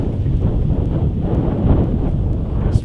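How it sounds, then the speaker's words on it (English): Gusty seaside wind at Whitstable buffets the microphone with a constant low roar, loud and unbroken for a few seconds, with no voices. "How windy would you say this is, Shark?"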